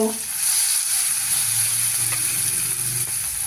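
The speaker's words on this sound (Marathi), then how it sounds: "आता त्यामध्ये आपल्या घेतलेल्या भाज्या घालून थोड्याशा वाफवून घ्यायच्या कांदा टमॅटो" Onion and tomato sautéing in a hot pan, a steady close sizzle with light stirring scrapes throughout, no voice over it.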